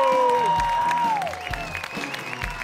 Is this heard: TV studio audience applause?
yes